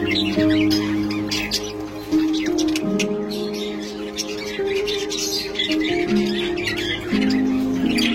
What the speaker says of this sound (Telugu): ఇక్కడ చూడండి ఎన్ని పక్షులు ఉన్నాయో